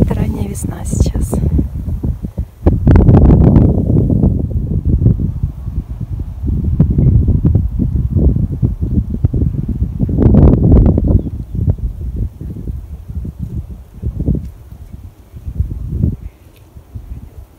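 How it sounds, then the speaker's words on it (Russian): Strong early-spring wind buffets the microphone in loud, rumbling gusts that come and go, with a person speaking in between. "Ветер сильный."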